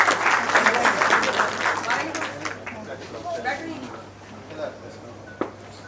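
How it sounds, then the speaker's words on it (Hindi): Audience applause at a community book launch, strong clapping at the start that thins and fades into scattered claps, with murmured talk underneath toward the end. "एक बार बहुत जोरदार तालियां इनके लिए बजा दें।"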